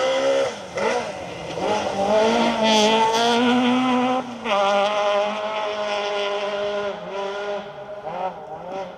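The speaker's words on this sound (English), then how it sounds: "Here's the car that can make some noise." A loud rally car engine revs high and roars past at speed on a stage of the 2023 Roger Albert Clark Rally, pitch climbing and dropping through gear changes, close and dominant throughout.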